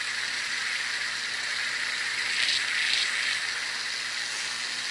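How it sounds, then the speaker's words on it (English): A hot TV transformer fully submerged in water makes it boil, giving a steady hissing, bubbling noise at moderate level that swells slightly midway, with no talking. "And it's still like boiling underwater."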